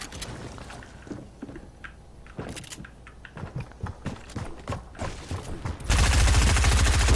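Tactical shotgun gunfire in an online solos video game match, a run of sharp shots at moderate distance followed by a loud, sustained burst of dense firing near the end.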